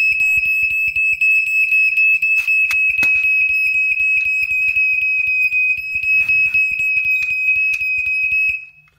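After smoke reaches it, a smoke detector on a gamma and beta spectrometer dosimeter blares a loud, piercing, continuous electronic beeping alarm that carries on for about nine seconds, with a rapid pulsing underneath, before cutting off.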